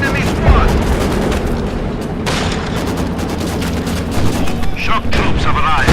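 Loud, dense battle noise in Company of Heroes 2: mortar blasts and gunfire rolling together in a continuous barrage, with rapid shots crackling over deep booms.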